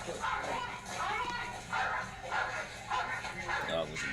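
A dog barks repeatedly during a police operation searching a building for a suspect, sharp barks coming in a rough rhythm amid tense voices and radio chatter.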